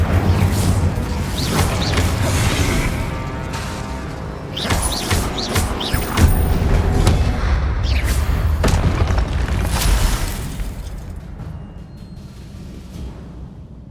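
Incendio fire spell cast in Hogwarts Legacy, erupting in booming bursts and crackling, crashing impacts amid combat clatter, loud and dense, fading toward the end.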